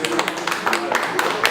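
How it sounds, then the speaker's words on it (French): Scattered applause from a crowd at an amateur boxing championship bout, with uneven claps and cheering under nearby talk. "On les applaudit tous les deux"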